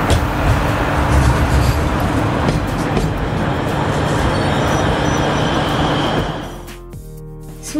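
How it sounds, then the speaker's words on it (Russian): A tram rumbles past on the rails, loud and steady with a grinding roll, then fades into a quieter hum with a brief high squeal at the end. "Смотрите, это трамвай."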